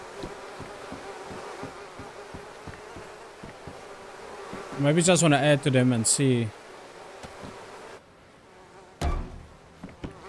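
Bees buzzing around hives in the DayZ video game, a steady insect drone beneath someone speaking, joined briefly by a louder rustling burst, then quieter hum and a short thump.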